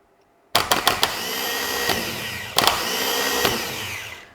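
A 12v starter motor on a workshop bench sparks and spins up from silence with a sudden loud whirring drone, sharp crackles at the start and again partway through, then keeps running steadily.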